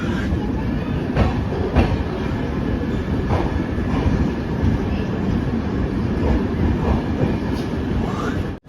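Inside a 3rd AC coach of the Nandan Kanan Express, a steady loud rumble of the moving train fills the space, with rhythmic wheel clacks over rail joints recurring every second or so.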